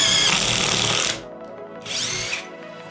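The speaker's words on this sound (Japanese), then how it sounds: "これで穴開けしてみましょうか。 ドリル機能も試してみたいと思います。" A Drillpro 18V cordless impact driver spins a 10mm short drill bit in two loud, high whirring runs, the first about a second long and the second shorter after a brief pause.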